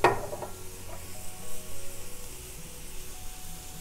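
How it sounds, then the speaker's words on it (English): Shrimp in a hot pan being deglazed with white wine, a brief sharp hiss at the start settling into a quiet, steady sizzle close by. "We'll go ahead and deglaze with the white wine."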